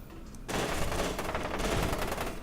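Dense automatic gunfire erupts suddenly in F.E.A.R. 2 as enemies are shot, a loud continuous rattle of rapid shots that carries on without pause to the end.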